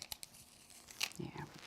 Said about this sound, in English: Peel off our tape and get underneath that.